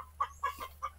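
A hen clucks in short, quiet bursts at a rural Filipino home, four or five soft clucks spaced evenly over about a second, fairly close and alone against faint background hiss.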